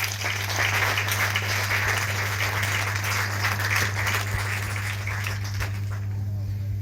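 Congregation applauding at a thanksgiving mass, a steady dense patter of clapping sustained throughout over a constant low hum, with some voices mixed in.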